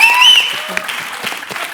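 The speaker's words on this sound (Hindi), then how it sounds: "तालियां।" A studio audience at The Kapil Sharma Show bursts into loud, dense applause, a steady wash of clapping that fades slightly toward the end.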